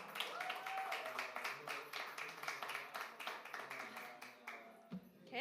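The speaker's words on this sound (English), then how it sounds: "Please give her a huge round of applause." Applause rings out from an audience at a COP28 climate-investment session, steady crowd clapping heard at moderate distance that tapers off near the end.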